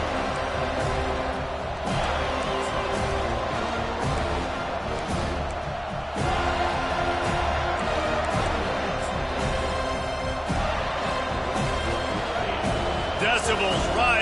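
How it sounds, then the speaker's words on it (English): Stadium crowd roaring on third down in a football video game, a loud continuous wash of cheering with thumps and swells, under steady commentary talk. "Decibels rising as the crowd gets behind this defense on third down."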